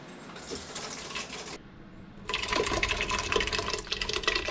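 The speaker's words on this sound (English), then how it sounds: "it's time to transfer it over into a pot on the stove" Thick fermented cayenne hot sauce mash pours wetly into a pot on the stove, a steady sloshing flow that pauses briefly, then returns louder and splattery.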